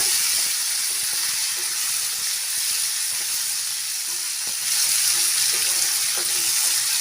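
Tomatoes are sautéed in chicken gravy with a loud, continuous hiss and sizzle that swells slightly halfway through, with faint scraping of stirring underneath.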